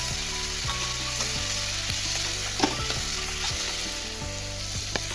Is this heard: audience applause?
no